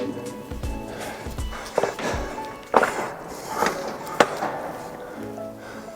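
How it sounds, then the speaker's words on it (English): Footsteps and knocks ring out inside an abandoned tunnel, trailing off into a hollow echo. Each hit lingers in the reverberant space, and a voice is also heard. "Check out how echoey it is as well."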